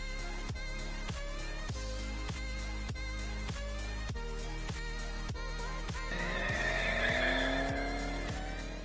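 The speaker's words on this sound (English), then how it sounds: "start the car" A car coming out of winter storage with a freshly refitted battery gives a steady rhythmic ticking for several seconds, then its engine whirs up with a rising tone toward the end, fairly quiet and with no talking.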